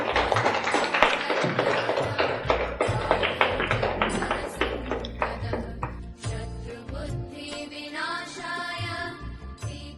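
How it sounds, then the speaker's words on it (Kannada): Applause from the audience at the inauguration ceremony of Shri Sai Dhyanadara, a dense burst of clapping that fades toward the end as other sounds take over. "ಜೋರಾಗಿ ಚಪ್ಪಾಳೆ ಮಾಸ್ಟರ್ಸ್."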